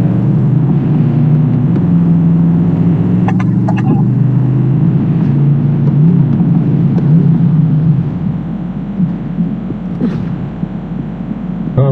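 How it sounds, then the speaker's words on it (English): A vehicle in the video game Borderlands 3 driving with a loud, steady, throbbing engine hum that continues throughout, with a few faint clicks on top. "I have a vehicle right here"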